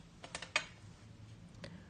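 Scissors snip a slit into a paper gift tag during a crafting session, a few quick, close dry clicks clustered together, the sharpest one in the middle, over a quiet room background.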